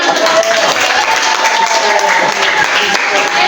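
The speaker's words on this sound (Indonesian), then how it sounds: "Berikan tepuk tangan." A classroom of students claps in sustained, dense applause for several seconds, steady and fairly loud throughout.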